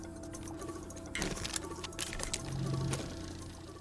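Medium printer running in the Astroneer video game, a steady mechanical whirr with rapid ticking clicks and a brief hum near the end, moderately loud with no talk.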